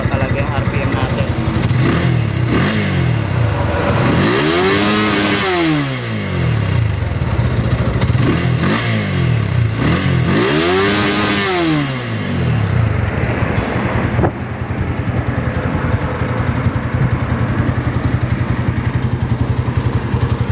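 A stock Motorstar Z200S motorcycle engine with an iridium spark plug idles loudly up close, then revs up and back down twice in long rising and falling sweeps before settling back to idle, with a voice speaking over it.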